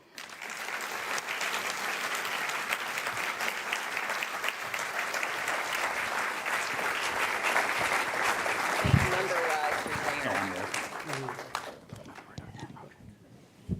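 An audience claps steadily for over ten seconds to welcome panelists onto a stage at a debate event, the applause dense and sustained before thinning out at the end, with a few voices briefly heard partway through.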